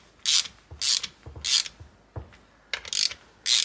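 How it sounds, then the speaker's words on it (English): Quick ratcheting clicks in short bursts, about six strokes, from a ratchet driving in the cam cap bolts on a Mazda Miata during a valve lash adjustment; close and clear, no voices. "So I'm going to grab a ratchet now and drive them in."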